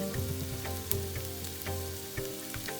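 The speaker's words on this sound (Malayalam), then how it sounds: "അതും ചേർത്ത് നന്നായിട്ട് ആ സവാളയുടെ ചെറിയൊരു നിറം മാറുന്നവരെ ഒന്ന് വഴറ്റി കൊടുക്കുക" Sliced onions sautéing in a pan for Kerala-style prawn biryani give a soft, continuous sizzle with light intermittent clicks and scrapes of stirring, fairly quiet and close, with no voices.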